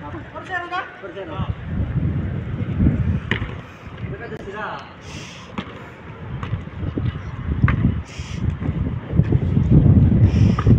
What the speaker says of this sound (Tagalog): Ayan, palakas na yung hangin.